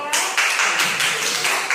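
A third-grade elementary class applauds in a classroom. The clapping is dense, loud and continuous, close by, with faint voices mixed in.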